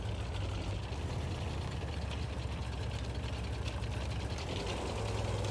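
Pz.Kpfw. 38H 735 (f) tank engine in a video game labouring slowly up a hill toward a monastery, a steady loud low rumble with a knocking, idling-like throb running unbroken throughout.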